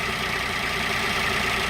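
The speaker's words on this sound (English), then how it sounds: "you start the engine. This isn't squealing or anything" Small Toyota Aygo petrol engine running at a steady idle, a continuous even hum with no belt squeal, close up and alone.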